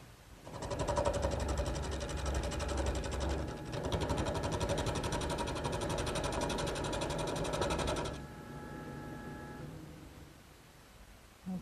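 A wood lathe spins a long, thin chair blank for a ladderback chair, steadied by a steady rest, giving a loud, steady mechanical whir with a dense rattle for about eight seconds before it quiets and winds down.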